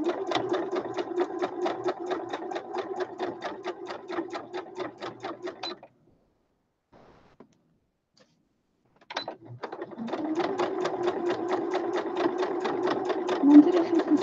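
A sewing machine stitches around fabric with pinned layers for a basket runner, running in a steady rapid rhythm, pausing for about three seconds, then resuming just as steadily and close.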